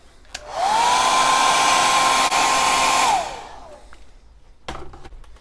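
A heat gun heat-sets paint on a custom squarebill crankbait: a loud, steady blowing roar that switches on, runs for about two and a half seconds with a slight rise in pitch, then cuts off and fades.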